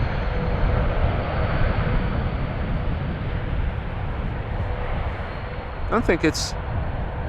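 A Boeing 787 Dreamliner airliner arrives on runway 18R at Amsterdam Schiphol with a broad, steady jet roar, while someone talks over it near the end.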